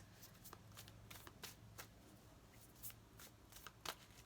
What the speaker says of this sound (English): These ones are a little harder to shuffle just because they're thicker